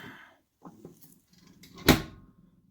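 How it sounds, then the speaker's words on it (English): A Samsung washing machine door swings shut against its seal with a single firm thump near the microphone, preceded by faint handling noises and a brief rattle. "as we close this door"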